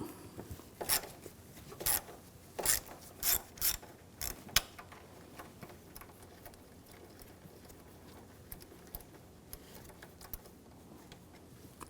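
Hand ratchet with a 10mm socket works a bolt loose on a 2007-2013 BMW X5 3.0L engine, a series of quick ratcheting clicks in short bursts up close, followed by fainter scattered mechanical ticks.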